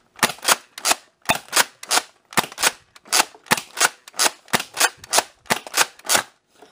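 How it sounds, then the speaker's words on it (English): A Nerf Double Dealer foam dart blaster is fired repeatedly, heard close as a steady run of about a dozen sharp, clacking double snaps with no talking. "that was 12 shots in both magazines, so a total of 24 darts fired with two jams"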